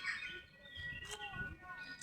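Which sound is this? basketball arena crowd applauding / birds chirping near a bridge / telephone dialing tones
birds chirping near a bridge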